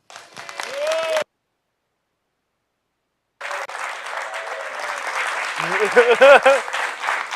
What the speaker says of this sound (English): Can we have a big round of applause for Rob Elkin?